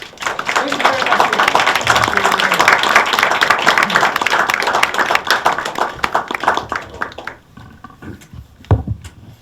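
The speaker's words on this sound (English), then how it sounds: "Can we have a huge round of applause for him?" Audience applause after a Rakugo performance at a storytelling session, a full, close round of many hands clapping that holds steady for about seven seconds, then thins to a few scattered claps with a voice speaking at the end.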